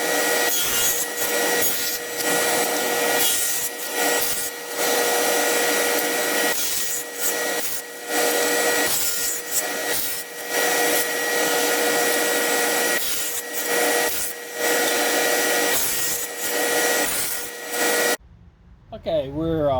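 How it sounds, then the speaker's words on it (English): Table saw with a dado stack cutting wooden frame sidebars for beehive frames, a loud continuous machine whine broken by repeated short grinding cuts as pieces are pushed through, close up, ending abruptly. "I have a dado stack, so I do it with the dado"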